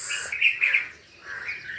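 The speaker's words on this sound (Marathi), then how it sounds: "सगळं चिलबिल कलबिल उठलेली आहे. आवाज तर सुंदर येत असन." Birds chirp and tweet in bright, overlapping morning calls in a village, with a brief lull midway before the chirping picks up again.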